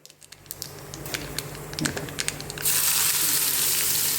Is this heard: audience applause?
no